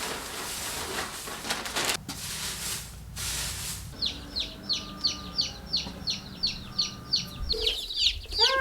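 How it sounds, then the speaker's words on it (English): Young meat bird chicks arrive in a box, giving a regular series of high, rhythmic peeps and cheeps close by, preceded by a few seconds of rustling and handling. "the meat bird chicks decided to arrive"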